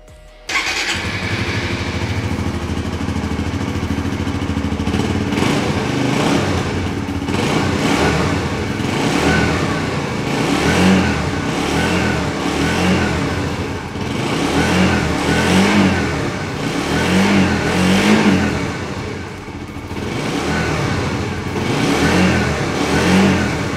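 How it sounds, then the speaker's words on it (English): A Suzuki GSX-R 125 motorcycle starts with a short crank and catch, then settles into a steady, busy idle with light throttle blips, close and loud for the rest of the run. "Right, let's start this up, listen to it run."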